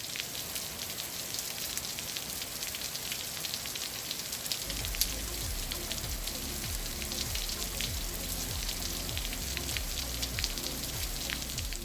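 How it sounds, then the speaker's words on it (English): Steady rain falls outside an open window, a dense, even patter on surfaces that continues throughout with no voices. "it's raining outside."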